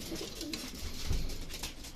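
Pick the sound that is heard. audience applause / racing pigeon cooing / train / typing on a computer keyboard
racing pigeon cooing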